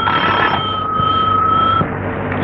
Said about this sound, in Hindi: रात के वक्त आया हुआ टेलीफोन है